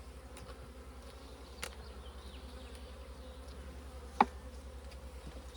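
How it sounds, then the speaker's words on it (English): Honey bees buzz around a hive frame heavy with honey, a soft continuous low hum with occasional louder bees passing close, including one sharp near buzz. "Sorry bees, sorry."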